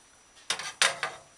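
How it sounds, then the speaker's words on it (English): Fingers tapping on an upturned cup to loosen molded salt fish pumpkin rice, giving three or four quick hard knocks, close and clear with no talking. "Use your finger, tap on the cup to remove the rice."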